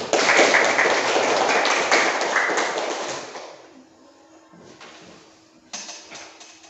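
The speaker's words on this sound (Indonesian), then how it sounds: "Tepuk tangan dulu" Schoolchildren in a classroom clap their hands together in a dense, loud burst for about three seconds, then it fades to a quiet room, and a brief second flurry of claps follows near the end.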